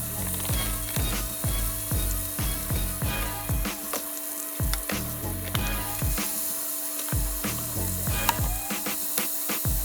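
Rib meat browning in a frying pan makes a close, continuous sizzle broken by repeated scraping and stirring strokes at an irregular rhythm.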